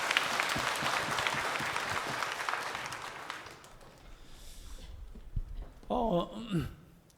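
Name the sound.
church congregation applause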